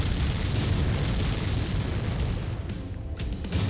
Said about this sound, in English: I can just hold the button down and launch missiles at my maximum fire rate